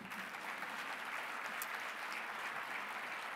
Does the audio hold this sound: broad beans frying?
no